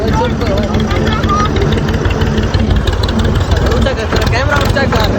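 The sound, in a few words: tractor engine running while driving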